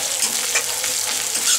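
Chopped green chillies sizzle steadily in a hot pan with oil while being stirred for a dry arbi masala, a bright continuous frying crackle with soft scraping, close and without talk.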